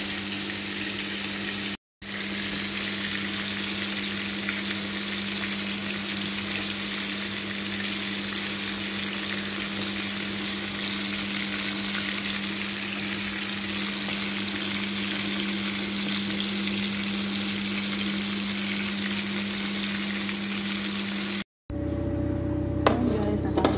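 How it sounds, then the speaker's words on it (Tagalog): Marinated fish fries in hot oil for fish majbos, giving a loud, continuous crackling sizzle that runs almost unbroken throughout. "natapos na yung first batch ng prito"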